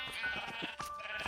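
Sheep in a Minecraft automatic wool farm, held in place by glass blocks, bleat in a string of short nasal cries that overlap at a moderate level, with no talking.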